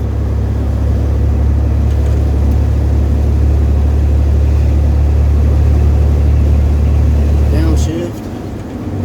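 A 1992 Chevy S10 pickup's 2.8 engine with five-speed manual drones loudly and steadily from inside the cab, then the low rumble drops off near the end as it downshifts out of fifth gear.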